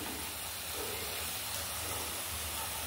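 Fenugreek leaves frying in about four spoons of oil give a steady soft sizzle and hiss, continuous and fairly quiet, with no voices over it.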